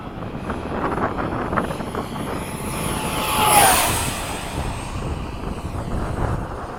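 An FMS 70mm F/A-18 model jet flies fast with flaps down in breezy conditions. Its ducted-fan whine swells and sweeps past at about the midpoint over constant wind noise, then fades back down.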